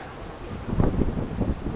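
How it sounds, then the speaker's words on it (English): Strong typhoon wind buffets the microphone in a steady low roar that swells and gusts, with no other sounds standing out, at Victoria Harbour, Hong Kong. "Ooh, it's windy."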